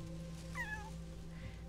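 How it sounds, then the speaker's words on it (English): In the video game Shelter 2, a kitten lets out a single faint meow over a low steady background hum, with no talking. "here we have Dusk and her kittens"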